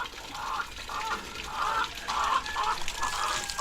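Pet chickens cluck in a series of short, repeated bursts at close range, with a faint watery trickle and steady background noise beneath them.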